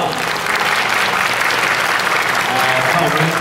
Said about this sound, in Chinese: 请大家掌声鼓励鼓励